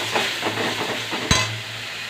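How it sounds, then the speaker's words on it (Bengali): Onion paste fried with ginger, garlic and green chilli in a pan for fish kalia, a steady loud sizzle close by with rhythmic stirring scrapes and one sharp clink of the utensil. "পেঁয়াজ বাটা দিয়ে দিলাম। পেঁয়াজটাকে একটু লাল লাল করে ভেজে নেব।"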